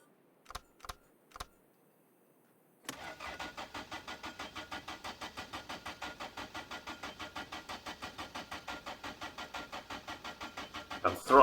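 A few sharp clicks sound, then after a short silence a car engine in My Winter Car catches and runs with a rapid, regular throttled chugging that grows louder at the very end.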